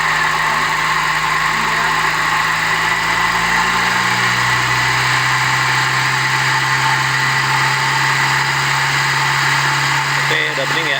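A Mitsubishi Lancer engine runs loud and close while the radiator is drained, idling and then rising to a steady higher drone when revved, with a voice speaking over it.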